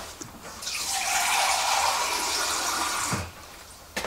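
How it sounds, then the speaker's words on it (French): Water pours into a cooking pot for a pumpkin dish, a steady rushing splash building for a couple of seconds and then stopping, followed by a brief clatter. "on met de l'eau à hauteur, un couvercle"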